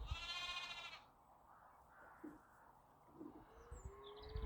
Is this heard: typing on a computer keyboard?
no